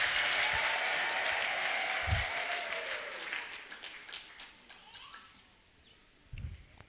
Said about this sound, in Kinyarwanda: Imana ishimwe, tuyikomera amashyi kwitugejeje muri uyu mwaka